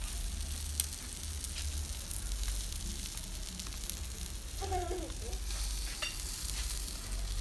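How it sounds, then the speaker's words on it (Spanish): Chicken roasting on a barbecue grill gives off a steady soft sizzle and crackle, heard at a moderate distance, with a brief bird chirp or squeak partway through. "Ya asándose."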